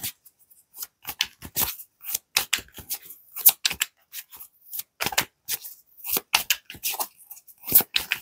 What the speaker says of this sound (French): Je ressens le besoin et l'envie de tirer une carte de tarot supplémentaire avec un autre jeu.